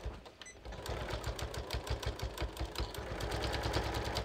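A sewing machine stitches a single welt pocket, a rapid, even mechanical chatter running steadily and close up, with no voices over it.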